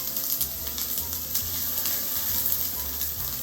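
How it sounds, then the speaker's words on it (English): Onions, celery and carrots saute in olive oil in a skillet, giving a loud, steady sizzle with bright crackles and occasional stirring scrapes, without talk. "We're going to start sauteing these vegetables."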